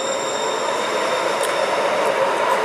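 A steady rumbling rush of a light rail train running along the rails, constant and fairly loud, with faint high squeals over the top.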